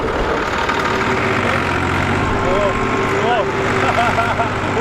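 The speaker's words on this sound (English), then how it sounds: "We're gonna take a quick tractor ride, or maybe drive the tractor" A tractor engine running steadily while plowing a field, a loud continuous low drone with a constant mechanical hum, close by and unbroken, with faint squeaks layered over it.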